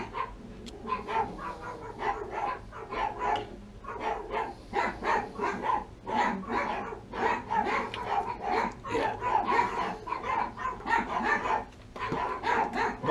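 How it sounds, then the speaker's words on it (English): Dogs bark in a dense, rapid run of sharp yips and woofs, fairly close and nearly continuous, with a few whimpers mixed in, beside a Rheem gas appliance being checked for a pilot light that won't stay on. "Barking dogs always makes for a good video"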